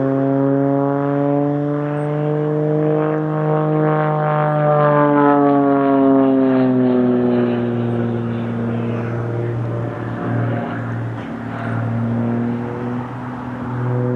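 An Extra 330SC aerobatic plane with a 330 horsepower propeller engine performs at an air show, its loud buzzing drone shifting in pitch as it climbs and swoops, steady and close throughout.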